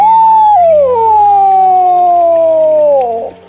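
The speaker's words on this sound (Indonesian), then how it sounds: "Ada serigala beneran?" A wolf's long, wavering howl, performed as a sound effect in a children's story, rising then sliding slowly downward before fading out, loud and alone.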